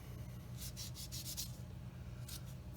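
A soft sponge sander is rubbed around a small plastic part from a 1/72 Academy Ju 87G-1 Stuka model kit, giving two faint bursts of quick rasping strokes over a low steady hum.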